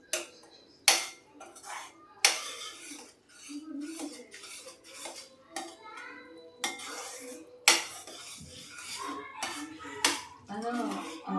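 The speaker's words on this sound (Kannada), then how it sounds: "ಶುಂಠಿ ಪುಡಿ ಹಾಕಿದ್ದೆ ಒಂದ್ಸಲ ನೀಟಾಗಿ ಮಿಕ್ಸ್ ಮಾಡ್ಕೋಬೇಕು" A spoon scrapes and clanks against a metal pot while stirring a dry fruit laddu mixture with ginger powder for North Karnataka antina unde, sharp repeated knocks at irregular intervals, close and fairly loud, with softer scraping between.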